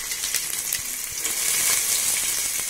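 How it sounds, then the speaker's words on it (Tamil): Onions frying in a pan for biryani, a steady, close hiss of sizzling oil with faint scattered crackles that swell slightly toward the end, no voices. "ஸோ அந்த ஆனியன்ஸ் கொஞ்சம் நல்லா ப்ரௌனாக வதக்கணும்"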